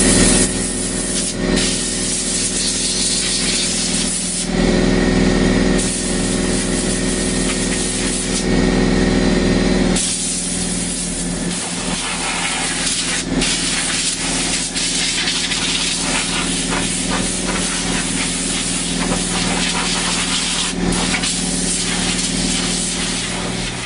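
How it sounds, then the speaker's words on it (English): An air compressor blows dust out of an opened MacBook on a repair bench, a loud close hissing rush of air in repeated bursts of a few seconds each, with short pauses and shifting tone as the nozzle moves. "we're going to clean it out with our compressor here."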